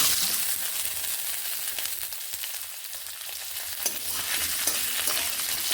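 Boiled potatoes stir-fried in a pan with tempering spices, a continuous soft sizzle with scraping and stirring sounds, close and steady, no voices.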